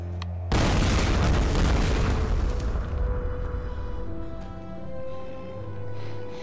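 An ignited object explodes in the Tomb Raider (2013) video game: one sudden, loud, close boom followed by a long rumbling, crackling decay that fades into low hum.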